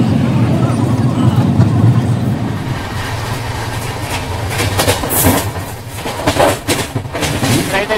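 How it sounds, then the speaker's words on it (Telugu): A double-decker train rolls slowly along the rails, a steady low rumble with soft rhythmic clatter from the wheels, while a voice talks over it throughout. "సిగ్నల్ లేదేమో మనకి, అందుకే స్లోగా పోతుంది ట్రైన్ అయితే"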